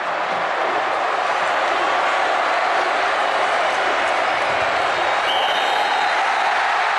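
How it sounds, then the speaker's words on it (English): A stadium crowd at a 2005 Miami Hurricanes versus Florida State Seminoles college football game roars and applauds in a dense, continuous, loud wall of cheering that never lets up. "And this crowd will erupt."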